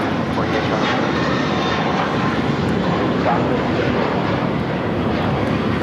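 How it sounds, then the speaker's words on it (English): An American Airlines A321 in America West retro livery takes off from runway 25 right at LAX, a steady broadband jet roar filling the whole clip at a constant level, with a dog barking faintly somewhere in the background. "This is American Airlines 764 taking off to Puerto Vallarta on the A321"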